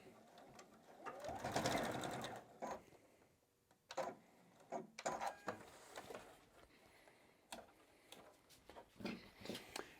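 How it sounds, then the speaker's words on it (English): Juki sewing machine back stitching through fabric, a fast mechanical whirring in short bursts that start, stop and reverse, close up and fairly faint, with brief pauses and light handling clicks between runs. "We're going to back stitch to secure."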